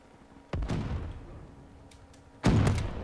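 Gunfire in the Free Fire shooter game: two loud, booming blasts about two seconds apart, each with a rumbling tail that slowly fades.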